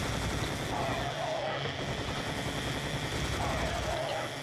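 Continuous, dense automatic gunfire from a minigun and a Tommy gun in the Serious Sam HD video game, a loud, unbroken roar of rapid shots lasting several seconds.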